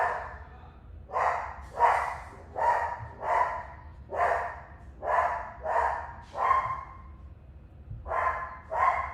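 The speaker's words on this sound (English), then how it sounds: "Can you hear your dog?" A dog barks in steady repeated bursts, about ten sharp barks roughly one per second with a brief pause near the end, fairly close and clear over a low background hum.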